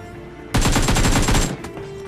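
Loud rapid automatic gunfire in the PUBG/BGMI mobile video game, a burst of about a dozen close shots lasting roughly a second, with a quieter shot or echo trailing after and no talk.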